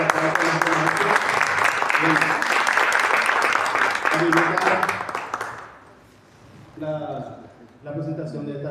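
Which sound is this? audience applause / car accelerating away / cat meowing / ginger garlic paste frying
audience applause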